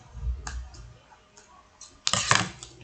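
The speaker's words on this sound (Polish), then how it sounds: "Te nożyczki nie są takie dobre, ale tutaj teraz już mogę naciąć." Scissors snip at a plastic surprise egg, giving a few soft ticks followed by a louder crisp double cut near the end, close and clear with no talking.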